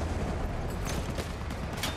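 Gunfire in the video game Battlefield 1: a dense, continuous rumble of battle noise with several sharp shots cracking through, loud and steady throughout.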